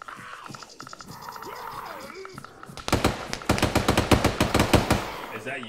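Rapid automatic gunfire in a video game, loud bursts of close shots firing in quick rhythmic succession after a stretch of quieter game ambience with faint talk underneath.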